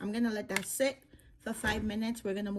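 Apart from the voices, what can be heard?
No distinct noise like a dog, phone or traffic.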